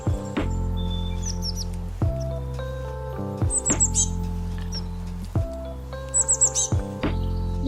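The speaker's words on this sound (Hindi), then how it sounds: "पिरहुला को इंग्लिश में बुलफिंच कहते हैं।" A Eurasian bullfinch sings short, clear chirping phrases in repeated bursts, set over steady, loud background music that sustains underneath throughout.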